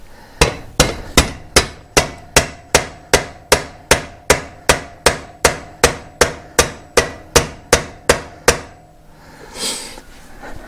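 A hammer strikes the rear axle sprocket of a Royal Enfield Himalayan, a 36-tooth part, in a steady run of about twenty sharp metallic taps at even spacing, then stops, leaving a short scuffing noise.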